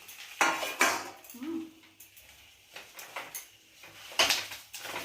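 Metal utensils clatter and scrape against a wok while cooking stingray fish on banana leaves, in several sharp bursts, with quieter clinks and shuffling between them, close by.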